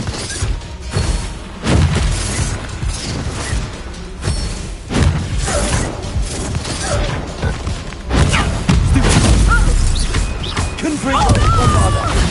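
Bombarda and Confringo spell explosions in Hogwarts Legacy burst repeatedly in quick succession, loud booms and crashes with whooshes, mixed with shouted incantations.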